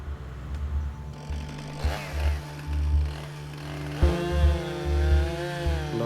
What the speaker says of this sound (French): Chaque jour, les tronçonneuses coupent d'immenses troncs aussi facilement que des bananes mûres.